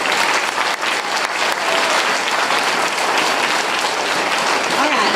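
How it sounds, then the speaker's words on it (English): Audience applause at a school gathering, a dense, steady wash of many hands clapping close by for the whole stretch, with a few voices faintly mixed in. "give a round of applause to the Rabbit TV"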